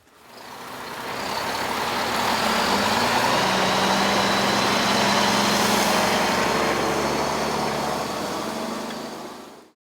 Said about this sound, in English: I would like to show you how this really big 6x6 truck performs in off-road